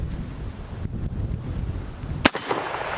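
A single sharp rifle shot from a Marlin 336 in 30-30 fired at a steel target outdoors amid heavy hurricane wind, one loud crack near the end over constant wind rumble.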